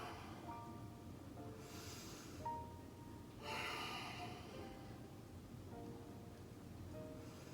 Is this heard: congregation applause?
no